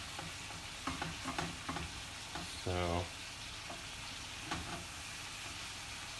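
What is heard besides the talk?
fish chunks pan frying in oil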